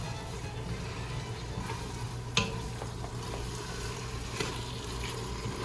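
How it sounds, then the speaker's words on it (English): Taco meat being stirred and chopped in a pan: a steady low sizzle and scraping stir throughout, with a sharp utensil knock near the middle and a softer one later. "Just keep mixing. Whenever you spot any chunks that are pretty large, just cut them down"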